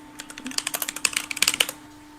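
Loud computer keyboard typing during an online Dungeons & Dragons session: a close, rapid clatter of a couple of dozen keystrokes in quick bursts, with no voices.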